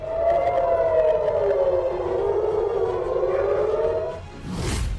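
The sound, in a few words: air raid sirens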